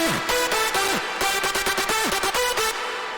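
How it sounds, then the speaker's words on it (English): A synth lead plays fast staccato phrases with falling pitch bends, the notes heavily washed in reverb that blurs them together throughout. "It would sound really like drowned in reverb"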